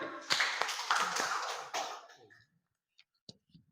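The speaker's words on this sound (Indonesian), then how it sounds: "Tepuk tangan." Audience clapping after a group presentation in a classroom, a short, moderately loud burst of hands that dies away after about two seconds, followed by a few scattered stray claps.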